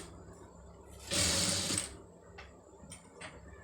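A sewing machine stitches a star neck design on a blouse front, one short close burst of rapid stitching against a quiet room.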